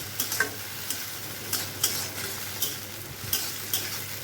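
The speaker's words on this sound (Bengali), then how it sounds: "এখন এটাকে একটু নাড়াচাড়া করব।" Fried rice with a little chili sauce being stirred in a hot pan, with a steady sizzle and repeated sharp scrapes of the spatula against the metal, close and clear with no talking.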